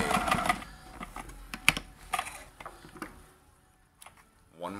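A heavy vintage Kenmore 158.1040 sewing machine back tacks in short, uneven mechanical bursts and clicks, fairly quiet and close, with a voice talking briefly at the start.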